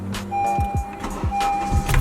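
A car engine is being started. A few short cranking pulses come over a steady electric whine, close and brief.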